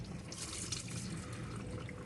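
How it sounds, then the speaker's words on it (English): Coolant water trickles and drips from a disconnected engine pipe near the throttle body of a Land Rover Freelander 2 or Range Rover Evoque, a faint, steady splashing close by. "we're going to lose a little bit of water there, but not much by the looks of it"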